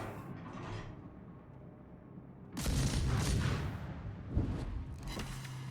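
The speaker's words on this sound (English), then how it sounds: "So I fired torpedoes here." A destroyer fires torpedoes in the naval video game World of Warships. A quiet rumbling stretch gives way to a sudden loud, sustained burst of launch noise, and a second surge follows shortly after.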